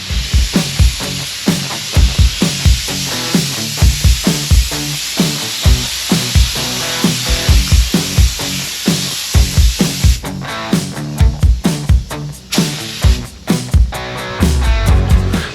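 A spray gun lays a seal coat of paint on a 1969 Camaro in a makeshift tent paint booth, with loud, repeated bursts of hissing spray that grow quicker and choppier toward the end.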